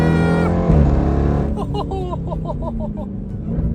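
A 700-horsepower Jeep Trackhawk SUV engine revs up loud and close, rising in a brief pull toward about 4,000 RPM and then settling into a steady throaty drone, with a short burst of background chatter.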